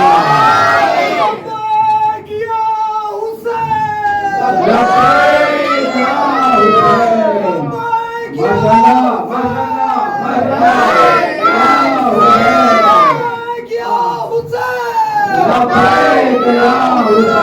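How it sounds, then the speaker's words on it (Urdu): A crowd at a Shia religious celebration for the birth of Imam Hussain at an ashurkhana chants slogans in unison, loud rhythmic call-and-response shouts of many voices repeating in waves throughout. "نعرے مل کر حیدری، لبیک یا حسین"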